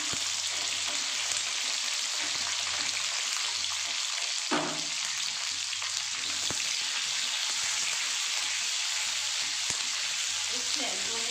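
Capsicum and onions frying together in a pan, a loud, continuous sizzle that holds steady throughout, with an occasional stir or clink breaking through.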